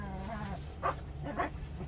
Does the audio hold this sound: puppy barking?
yes